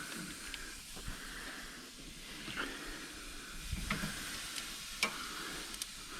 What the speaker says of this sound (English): We're gonna take these and hopefully get a pretty nice sear on them.